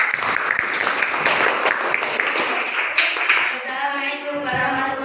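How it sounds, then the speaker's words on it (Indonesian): A classroom group gives Group 2 a burst of dense applause after their presentation. The clapping is close and fairly loud and goes on for several seconds before it thins, with voices starting to speak as it fades. "tepuk tangan untuk kelompok 2"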